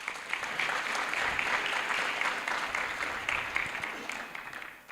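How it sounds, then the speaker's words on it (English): Audience applause at a young adults' musical gratitude programme, a full sustained wash of many hands clapping in a hall, steady and fairly loud, easing slightly toward the end. "I think they deserve a round of applause."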